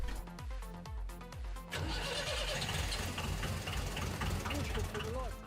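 A car engine, cranked over by a BlitzWolf BW-JS1 800A portable jump starter, catches quickly after a few rapid starter turns and then runs steadily and loudly up close, with low rhythmic combustion pulses.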